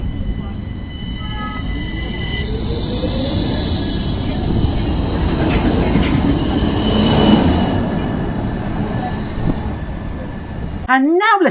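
An Istanbul metro tram rolls along its rails with a steady rumble, high whining tones and squealing wheels. A sharp burst of noise comes near the end, and voices can be heard under the running noise.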